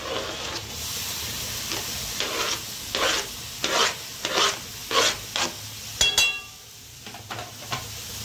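Chopped tomatoes and onions sizzle softly in a pan while a spoon scrapes through them in a series of regular stirring strokes, close and moderately loud, with the strokes stopping near the end.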